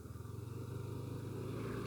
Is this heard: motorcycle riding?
yes